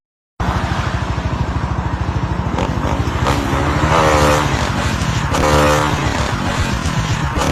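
A motorcycle on a road, caught on CCTV, pulses with a steady engine beat as its revs surge loudly twice while the front wheel lifts, with traffic noise around it.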